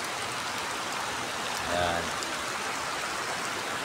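Heavy rain falls as a steady, dense hiss throughout, with a brief voice speaking partway through.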